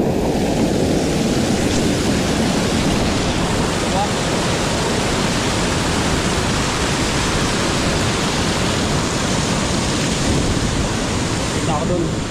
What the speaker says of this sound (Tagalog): ang lakas talaga ng ano ng tubig yan.